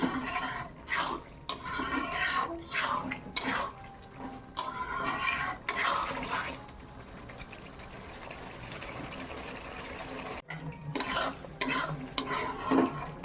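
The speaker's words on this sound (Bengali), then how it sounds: "মাংসের সঙ্গে একটু কষিয়ে নেই।" Spices sauté with chicken meat in a pan for ghugni, continuous sizzling under busy stirring, with the spoon repeatedly scraping and clinking the metal pot, close and fairly loud, no talk.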